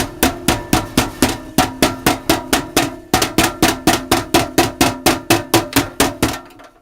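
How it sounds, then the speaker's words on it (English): A tenderizer hammer pounds a top sirloin steak in a steady series of sharp, close, evenly spaced thuds, roughly three per second, with one brief pause midway and no talking. "I'm going to start with a top sirloin, and I'm going to use a tenderizer hammer."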